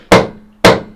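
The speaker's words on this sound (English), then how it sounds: "just hammering chrome faces with like, what even is this? This is even like a cheap hammer" A cheap hammer strikes chrome split rim faces twice, sharp loud metallic hits about half a second apart, each ringing briefly and decaying.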